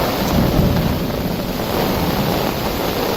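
Thunder rumbles through a heavy rainstorm, a loud continuous roar of rain and deep rolling rumble filling the whole stretch, with wind buffeting the microphone and no voices.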